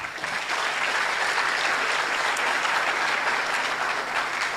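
A large audience applauds steadily at a housing lecture event, a dense, even wash of many hands clapping that holds at full strength throughout.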